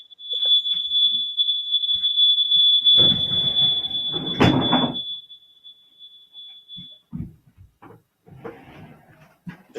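An electronic alarm sounds during an online call, a steady high-pitched beep held for about seven seconds before cutting off. Bursts of noise and rustling fall in the middle of it, and quieter movement follows once it stops.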